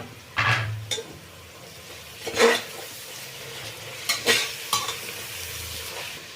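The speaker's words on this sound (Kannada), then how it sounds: "ಮೆಂತ್ಯ ಸೊಪ್ಪು ಮತ್ತು ಪುದೀನ ಸೊಪ್ಪು ಹಾಕ್ಕೊಳ್ತಾ ಇದ್ದೀನಿ ಇದು ಸ್ವಲ್ಪ ಚೆಂದಾಗಿ ಫ್ರೈ ಆಗಲಿ" Fenugreek and mint leaves frying in oil in a pan, soft sizzle punctuated by a few sharp scrapes and knocks of a spoon against the pan, near and fairly quiet.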